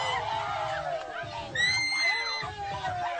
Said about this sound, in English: I think it's a mix of screaming and clapping.